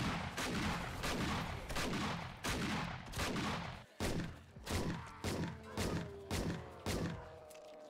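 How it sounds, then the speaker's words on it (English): Gunfire from a weapon in the zombie survival game 7 Days To Die, a steady series of loud, slow-paced shots with booming tails, each one spaced out and continuing alone without talk. "This gun shoots so slow."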